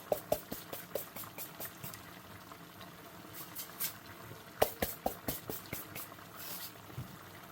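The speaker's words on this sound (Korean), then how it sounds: "이렇게 보글보글 갈비찜이 완성됐어요." Braised beef short ribs (galbi-jjim) simmer in a pot, giving a steady low bubbling with scattered pops and small bursts of clicks, near and fairly quiet with no voices.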